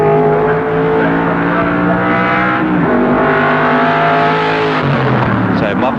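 A 1973 improved production touring car races past at Warwick Farm, its loud engine note rising and falling steadily for several seconds as it sweeps through the corner, with a commentator talking over it throughout.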